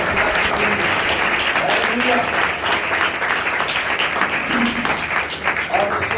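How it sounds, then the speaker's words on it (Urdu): Loud, sustained applause fills a church service, continuing steadily throughout while a voice calls out over it. "زوردار تالیاں"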